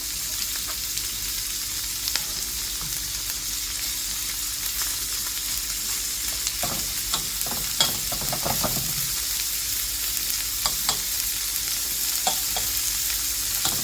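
Onion and meat sear in a hot frying pan with a steady, close sizzle and crackle, with a cluster of louder stirring and scraping knocks partway through.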